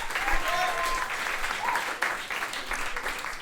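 An audience applauds at a live Broadway musical cabaret night at 54 Below, a steady wash of clapping from a moderately sized crowd that holds at an even level throughout.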